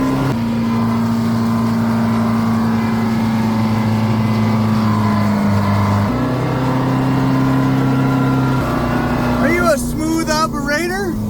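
A 1978 Ford F-350 truck engine runs loud and close, holding a steady tone that steps up in pitch as the throttle opens, with some rattling noise near the end.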